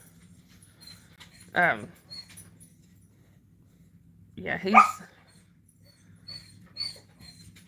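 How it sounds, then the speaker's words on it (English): A blue heeler barks at the front door indoors, two short loud bursts a few seconds apart with quieter sounds between, and a person speaks briefly. "now he's barking at the front door like there's somebody out there"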